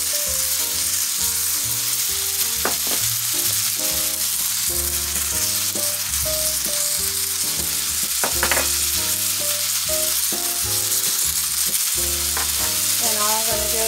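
Ground beef with seasonings frying in a pan for a casserole, a steady loud sizzle throughout with occasional scraping and stirring clinks from a utensil.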